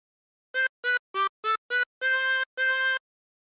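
Bright reedy harmonica playing a phrase of Yankee Doodle: five short even toots followed by two longer held notes, alone in silence.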